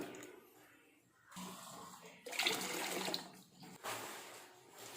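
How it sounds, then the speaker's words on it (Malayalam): Water used to rinse a grinder jar is poured into a pan of fish curry in a sloshing stream, rising and falling in bursts over a few seconds, with no talking. "ഇനി നമ്മുടെ ജാറ് കഴുകിയ വെള്ളം കൂടെ അതിലേക്ക് അങ്ങ് ഒഴിച്ചു കൊടുക്കാം."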